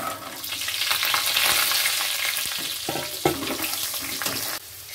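Pre-fried vegetables drop into hot oil tempered with dried red chillies, radhuni and bay leaf for Bengali shukto. A loud, close sizzle swells, and clattering stirs break through it.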